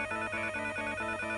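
A telephone at a Heathrow warehouse rings unanswered with a steady, repeating electronic trill in quick even pulses, fairly loud and alone, with nobody talking.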